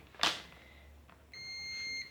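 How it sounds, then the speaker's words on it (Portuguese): A multimeter clicks sharply, followed by a steady, high-pitched continuity beep lasting under a second while testing a Brastemp microwave oven circuit board, alone in a quiet room. "presta atenção no bip."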